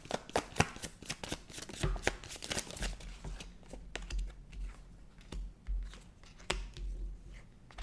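Tarot cards being shuffled and pulled during a psychic reading, giving quiet, close riffling and flicking with rapid papery bursts, then softer intermittent shuffles and taps, with no talking.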